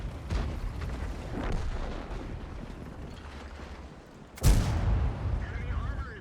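A tank cannon fires in World of Tanks gameplay from a KV-1 with a derp gun. One sharp, heavy boom stands out amid ongoing game rumble and distant shots, with a voice talking at times.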